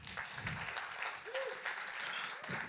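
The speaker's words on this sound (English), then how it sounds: "Let's give Colin a huge round of applause." Applause from an audience at a marketing conference talk, a steady wash of clapping heard faintly throughout, with a voice briefly audible over it.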